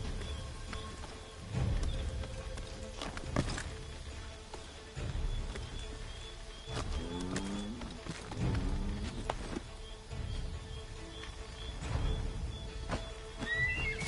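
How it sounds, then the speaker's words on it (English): A horse neighs a few times amid outdoor ambience, with scattered hoof steps and faint rustling in the game Assassin's Creed III. "Get back on the horse, Connor."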